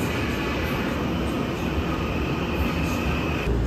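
A local train passes close through a station in Keelung, Taiwan, a loud, steady rumble and roar filling the whole stretch with a constant high whine on top and no break in the noise.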